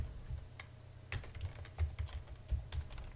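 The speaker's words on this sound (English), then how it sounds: "just type custom component right there" Rapid, irregular clicking of a computer keyboard being typed on, close and fairly quiet, with no talking.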